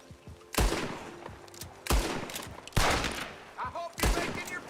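Four loud, separate gunshots in Red Dead Redemption 2, each a sharp blast with a long echoing tail, spaced about a second apart, with quieter speech between them.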